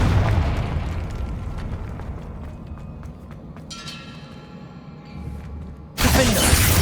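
A Confringo blasting spell in the video game Hogwarts Legacy goes off in a sudden loud explosive burst near the end, following quieter game ambience with a brief shimmering effect.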